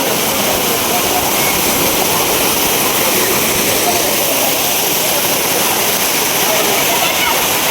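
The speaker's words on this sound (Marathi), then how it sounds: "वरून धबधबा पडतोय" A waterfall in the Sahyadri hills at Ozarde in Maval taluka, beside a temple and caves, gives off a loud, steady, unbroken roar of falling water that fills the whole scene at close range.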